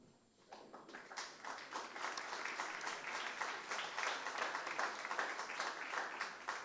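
A seated audience at a food award ceremony breaks into steady applause, many hands clapping densely at moderate distance, building quickly and holding for several seconds.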